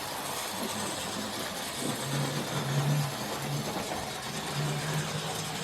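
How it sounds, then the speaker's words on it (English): A Mainline model 0-6-0 pannier tank locomotive runs steadily on its track, giving a continuous whirring motor hum with a faint, wavering low tone throughout. "And you can hear it, the way that it is running. It runs similar to a mainline locomotive."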